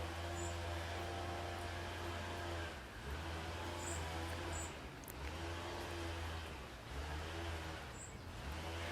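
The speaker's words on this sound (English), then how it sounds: "is lawnmower getting to you as well?" A two-stroke lawnmower engine running steadily at a distance, a continuous droning hum with slight dips in pitch, faint and alone with a few chirps over it.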